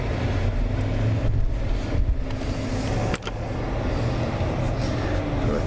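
A Dodge Charger R/T drives at a steady pace, its engine a continuous low hum with road noise from inside the cabin, fairly loud and unbroken apart from a brief thump.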